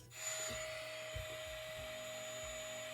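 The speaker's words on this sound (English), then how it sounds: "Vacuum." A vacuum cleaner runs steadily as a sound effect, with a constant high whine over a broad, rushing hum that starts abruptly and holds at an even level throughout, with no voices.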